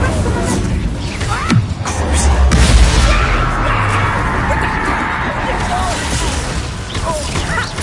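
Fire spell being cast in Hogwarts Legacy, a loud crackling whoosh with a heavy low impact boom near the start of the blast, under continuous dense game noise with background voices.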